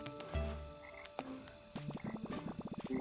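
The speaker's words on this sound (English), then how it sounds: "Check out those singing frogs." A chorus of frogs croaks at night in a game's nighttime scene, a steady run of rhythmic, repeated croaks building toward the end, moderately quiet and with no speech.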